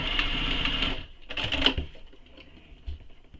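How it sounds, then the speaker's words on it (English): Sewing machine basting a stitch line across the zipper panel of a bag, a rapid whirring run of stitches that stops, then a short second burst and a few small clicks. "Now we're going to sew all the way across this zipper panel again to baste it in place."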